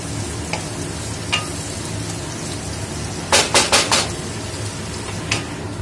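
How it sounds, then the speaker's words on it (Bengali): Onions frying in a pan: a steady close sizzle and crackle of hot oil, broken by a quick burst of four loud stirring scrapes and a few lighter clinks. "তো পেঁয়াজটা ভাজা ভাজা হয়ে গেছে"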